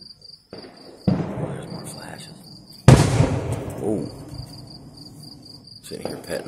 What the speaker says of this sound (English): there's people shooting fireworks